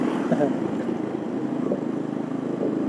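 A motorcycle exhaust rumbles steadily while riding at night in Yogyakarta during the Takbir eve celebrations, a low continuous engine drone with faint street noise around it.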